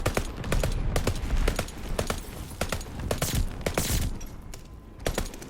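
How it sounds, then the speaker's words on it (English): Short bursts of light machine gun tap fire in Call of Duty: Vanguard, sharp repeated shots in an uneven rhythm over a steady game background, loud and close. "I'm tap firing"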